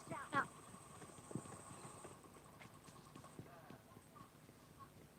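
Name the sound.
horse hooves clip-clopping in video game PUBG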